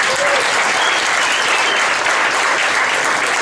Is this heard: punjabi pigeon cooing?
no